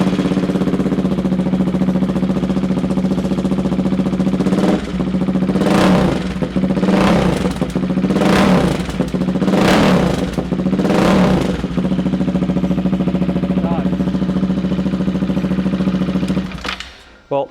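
A loud nearby motorcycle engine idles steadily, then revs hard five times in quick succession before settling back to idle, with no talk.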